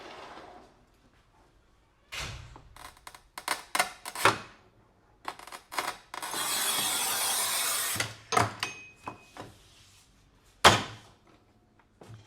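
A manual ceramic tile cutting machine, Shijing Tools E302-1200, scores and snaps a tile with a sustained scraping pass in the middle, framed by knocks, clacks and a sharp final snap, fairly close and with no talk.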